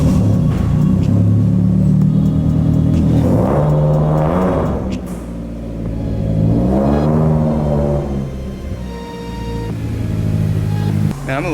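A Mitsubishi Evo X is driven out into the light before a widebody install. Its engine rumbles loudly nearby, with rising revs in two swells as it pulls away, and a voice can be heard at times under the engine.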